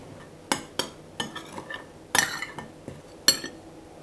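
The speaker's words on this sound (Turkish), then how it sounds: "Onları katmadan önce bir karıştıracağım." Spoon clinking against a bowl while stirring a fenugreek paste mixture with garlic, several sharp scraping and tapping strokes at an uneven rhythm, close and fairly quiet.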